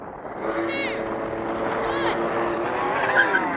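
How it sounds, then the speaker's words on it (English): Lamborghini Revuelto and Ferrari SF90 launch off the line, a loud, steady engine roar with rising whines and brief squeal-like bursts, mixed with background voices throughout. "You need to get that SF90 off the line as best as you can"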